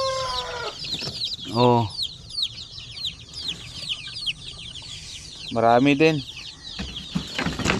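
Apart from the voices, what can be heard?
newly hatched shamo, aseel and zampen native chicks chirping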